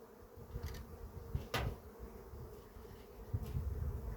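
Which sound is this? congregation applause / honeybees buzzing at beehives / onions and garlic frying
honeybees buzzing at beehives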